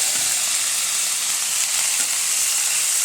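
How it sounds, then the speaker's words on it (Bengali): Star fruit pieces are poured into hot oil with a dried red chili and panch phoron spices, and they fry with a constant, even sizzling hiss. The sound is close and unbroken, with no talking. "তেল গরম হয়ে গেছে। এরপর কামরাঙাগুলো সব ঢেলে দিলাম।"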